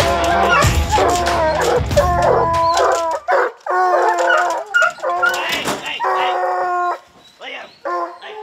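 Bear hunting dogs outdoors, several barking and bawling in loud, repeated bursts, with drawn-out howls rising between sharp barks and brief gaps of quiet.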